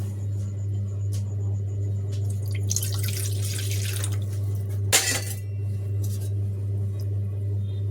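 Water poured into khaman batter mixed with dissolved sugar, lemon salt and salt, splashing in bursts over a steady low hum, with one sharp splash near the end.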